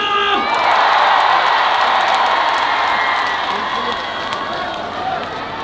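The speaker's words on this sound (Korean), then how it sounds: "박수와 함성!" At the Danyang Sobaeksan Royal Azalea Festival concert, a large outdoor crowd cheers, whoops and claps in a loud, unbroken roar that swells early and then slowly eases off over several seconds.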